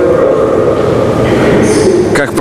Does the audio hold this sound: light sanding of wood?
no